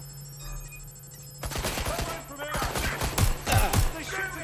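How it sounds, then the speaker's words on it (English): Enemies open fire in a video game: after a quiet, humming lead-in, rapid bursts of gunshots crackle loudly and repeatedly, with dense overlapping shots. "They're shooting at us."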